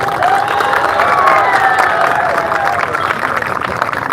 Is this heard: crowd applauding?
yes